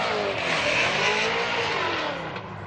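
A Formula Drift car at full throttle during qualifying in New Jersey, its engine roaring loud and sustained through a corner with tire squeal, no voices over it.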